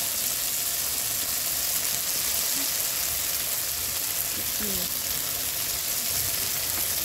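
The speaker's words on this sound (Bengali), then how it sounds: "মশলাটাকে ভালো করে কষিয়ে নেব" A paste of ground chilli, turmeric and salt sautés in a pan for aloo dum, giving a steady, even sizzle that runs unbroken from start to end at moderate loudness.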